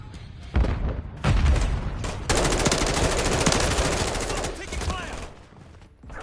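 Call of Duty combat with a grenade thrown, as sharp bursts of gunfire and booming impacts rattle loudly through a dense, continuous battle din.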